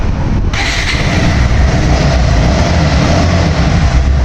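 A motorcycle engine with about 4,748 km on it runs at a steady idle close by. The loud, continuous rumble fills the whole moment without pause.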